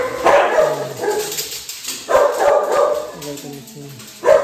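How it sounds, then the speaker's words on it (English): Several dogs in a home kennel barking at feeding time, repeated loud close yaps and barks in bursts with short gaps, a few higher whimpering yips mixed in. "Ito yung mga dogs po guys."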